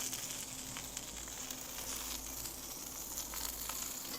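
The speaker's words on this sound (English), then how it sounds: "We're just going to put it in the skillet and just let it brown a little bit." A filet steak browns in a hot skillet with a steady, soft, continuous sizzle and crackle throughout, close by and with no talking.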